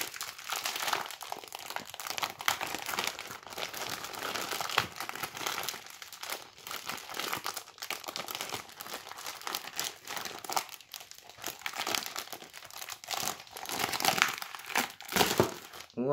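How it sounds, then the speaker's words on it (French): A Lego Marvel paper magazine being opened, its pages crinkling and rustling continuously and close to the ear for a long stretch, with no voices. "je vais ouvrir le magazine."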